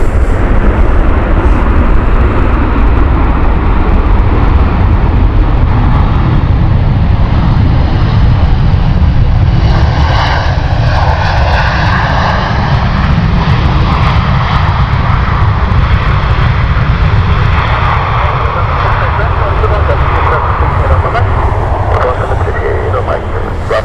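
Engines of an Emirates Boeing 777 at Stansted Airport give a loud, steady, broadband roar that runs without a break for the whole stretch, with a deep rumble underneath and a brief rising whine partway through.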